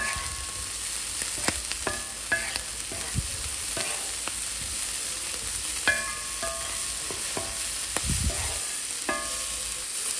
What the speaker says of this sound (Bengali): এখানে এটা ভালো করে নাড়িয়ে চাড়িয়ে